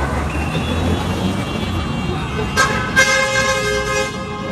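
Street traffic in the Philippines, with steady engine rumble and a couple of short car horn toots cutting through near the end, under some background chatter.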